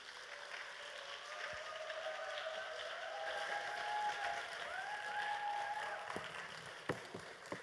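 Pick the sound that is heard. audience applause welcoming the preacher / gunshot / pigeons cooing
audience applause welcoming the preacher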